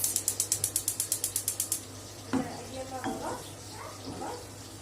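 A gas stove burner ignites under a pot holding butter, ghee and oil for Egyptian lentil soup: a rapid train of about fifteen sharp igniter clicks, close and steady, then quieter kitchen sounds with a faint voice.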